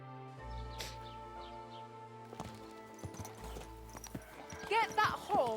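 Horse hooves clop in the medieval video game Kingdom Come: Deliverance 2, a steady rhythm of close footfalls beneath a low music bed, with a horse snort or whinny and a voice rising near the end.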